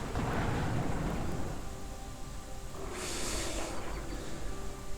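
A lightning bolt spell strikes in Heroes of Might and Magic 5, a rumbling thunder-like crash with a crackling electric burst partway through, loud and steady.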